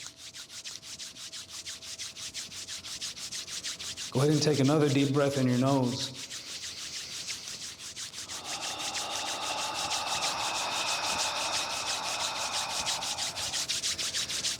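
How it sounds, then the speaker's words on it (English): Group of people outdoors at a resilience gathering in Whitehorse, Yukon, rubbing their hands together, a soft sustained swishing friction that builds over several seconds, with a guide's voice briefly heard. "Go ahead and rub your hands together."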